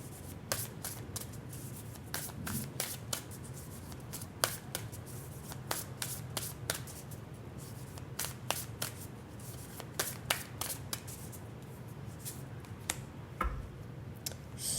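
Oracle cards from the Rooted Woman deck being shuffled by hand, a long run of crisp riffling flicks and taps in irregular bursts, close and fairly quiet over a low steady hum.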